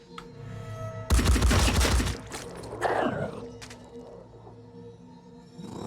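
Gunfire from the tactical video game Phoenix Point, a loud burst of rapid shots lasting about a second followed by a second, shorter crack and a fading rumble over a low, steady game ambience.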